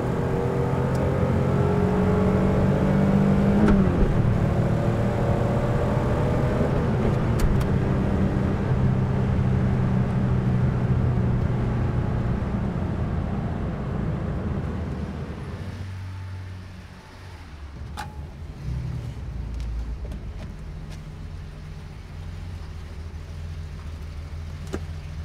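A 1973 Porsche 911 is on the move, its engine revving with a rising, wavering drone that swells early, then eases back to a lower, steadier hum of driving and road noise.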